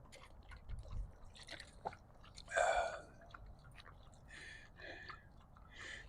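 A dog laps water from a bowl during a rest on a desert mountain climb, giving soft, wet, irregular slurps and drips close by, with faint breathing and light rustling in between.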